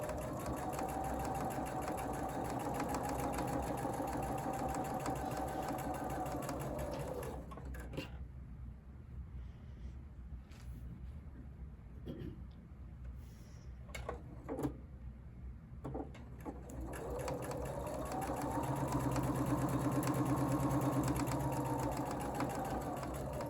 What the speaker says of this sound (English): I'm going to sew 1/4 inch on both sides of the line.